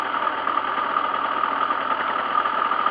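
A 2007 Derbi GPR naked motorcycle engine idles close by with a steady, buzzing, even rumble that holds constant for the whole stretch, with no talking.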